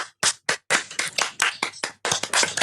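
Hands clap in a quick, uneven burst of about a dozen sharp claps over a couple of seconds, close and fairly loud, with short gaps between groups.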